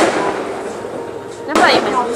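Deepavali fireworks go off outdoors, with a sharp burst near the end rising over a steady wash of background noise and voices talking.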